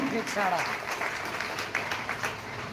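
Applause rises from a crowd gathered at a village Independence Day event, steady clapping heard under ongoing speech.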